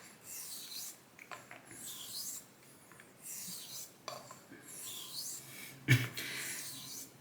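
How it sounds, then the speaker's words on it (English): A Bengall frameback straight razor is stroked back and forth on a coticule whetstone, giving soft, steady, rhythmic rasping passes close up and fairly quiet, with one sharp tap partway through. "it's just another sign that the honing session is going right for me"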